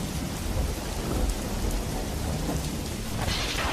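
A thunderstorm sound effect for a horror story: dense, loud rain pours without a break while deep thunder rumbles underneath throughout, with no voices.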